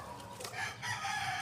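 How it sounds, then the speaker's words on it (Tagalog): A big round-head rooster, a cross with a yellow-legged hatch breed, gives a short, faint clucking call, brief and somewhat distant in a backyard setting. "Napakalaking manok."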